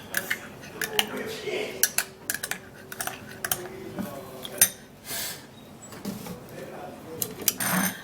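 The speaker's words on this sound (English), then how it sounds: "we're going to be mixing this all up just like this" A spoon stirs turmeric, banana paste and yogurt in a bowl, giving irregular clinks and scrapes against the bowl's sides beneath a quiet background hum.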